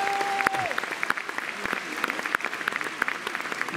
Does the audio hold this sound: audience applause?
yes